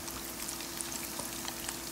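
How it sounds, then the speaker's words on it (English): Steady crackling sizzle of wheat-flour-coated chicken frying in hot oil in a skillet, close and continuous, with small pops scattered throughout. "And when you're putting your chicken in your frying grease oil, you put one piece down"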